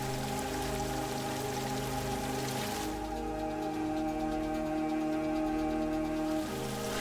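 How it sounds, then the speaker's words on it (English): Water gushes from a fresh mountain spring in Peru, a broad, rushing flow that is loudest in the first few seconds and then softens beneath sustained musical tones. "suddenly it gushes out far below in a fresh mountain spring."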